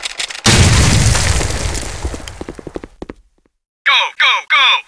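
Grenade explosion in Counter-Strike 1.6, a loud, close blast that decays into a crackling rumble over about three seconds, then silence, followed by three short bursts of radio voice chatter.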